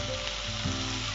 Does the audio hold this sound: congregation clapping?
no